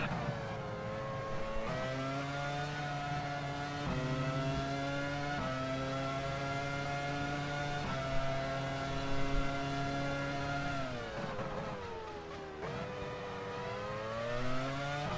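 Formula One race car engine in the F1 Challenge video game, a steady high-pitched whine with shifting gear tones and brief dips in revs, loud and continuous with no talk.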